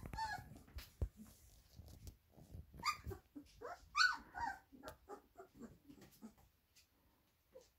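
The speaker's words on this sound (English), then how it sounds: "The puppies are starting to play with each other." Young puppies from a litter about three weeks old play together close by, with soft yips, squeaky whimpers, tiny growls and short barks coming in quick irregular bursts.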